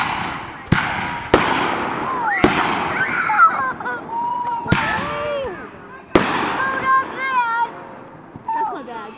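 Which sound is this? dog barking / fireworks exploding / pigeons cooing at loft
fireworks exploding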